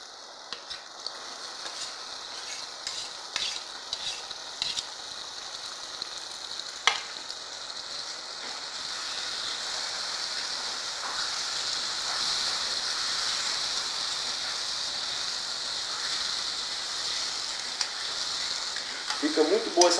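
Banana farofa with cheese frying in a pan while being stirred, giving a steady close sizzle with scattered scrapes and clinks of the utensil throughout, and no talk.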